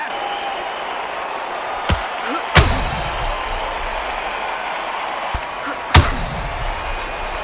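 Two hard punches land in the PS5 boxing game Undisputed, Cameron vs Taylor, sharp thumps about three seconds apart over a steady arena crowd roar, with fainter impacts between them.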